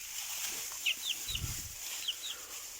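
Chickens in a coop while their straw bedding is changed, giving a few soft, brief clucks and chirps over steady background hiss, with a low rustle midway.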